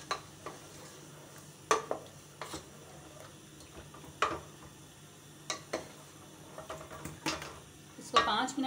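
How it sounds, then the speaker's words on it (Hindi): Masala for dar gosht being stir-fried in a pan on a high flame, with a soft steady sizzle and intermittent sharp clinks and scrapes of a spoon against the pan, nearby and fairly quiet. "अब इसको अच्छी तरह भूनेंगे।"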